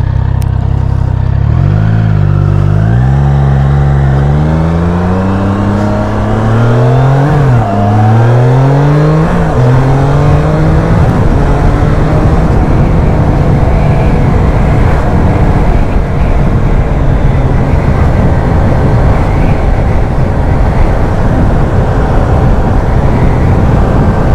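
A Triumph Trident 660 motorcycle engine climbs through its revs in several rising pulls, settling into a loud, sustained high-revving drone close by.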